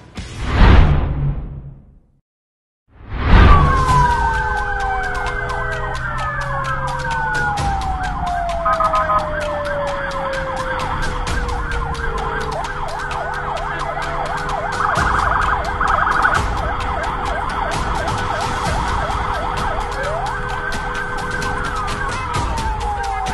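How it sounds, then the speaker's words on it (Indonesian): Emergency vehicle sirens wail and sweep in pitch on an Indonesian road, loud and close, with several overlapping tones and passing traffic whooshing beneath, after a brief gap near the start. "sirine maupun rotator dari mobil pimpinan dan kelembagaan negara Republik Indonesia"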